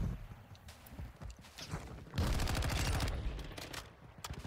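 Automatic weapon fire in the XDefiant shooter game, a dense burst of rapid shots that bursts in loudly midway and holds for a couple of seconds, following lighter scattered shots and footsteps.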